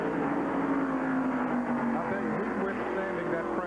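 NASCAR Cup Series race cars roaring through the carousel turn, a dense, continuous engine rumble with passing tones sliding in pitch, loud throughout.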